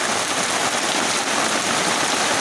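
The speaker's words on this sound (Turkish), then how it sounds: "gördünüz mü ne şiddetli yağmur yağıyor be" Dense, hissing downpour of heavy rain, loud and unbroken throughout, with no voices.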